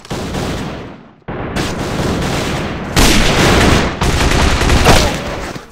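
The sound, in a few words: gunfire in video game Alliance of Valiant Arms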